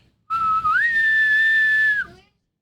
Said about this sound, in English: With that, you guys hear the little boatman's whistle.